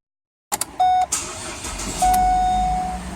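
A car cranks and fires up after an automatic transmission filter service on a 4L60E/4L65E, with a brief chime beeping before the engine catches and settles into a steady idle nearby.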